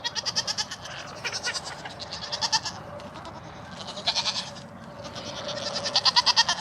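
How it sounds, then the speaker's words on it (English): Several farm goats bleat at feeding time in repeated wavering bursts, some close and loud and others softer, with short pauses between the calls. "I'm feeding goats, feeding goats, feeding goats again."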